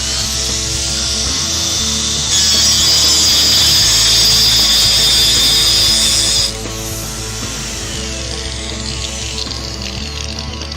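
A power tool cuts along a clamped tile on a jig, giving a loud, steady, continuous grinding whine that holds for about six seconds, then drops to a lower, quieter running hum.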